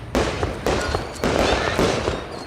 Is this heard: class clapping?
no